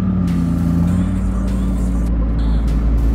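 A McLaren Sabre supercar on a city street, its engine a loud, steady drone with a strong low hum close by, holding constant for a few seconds.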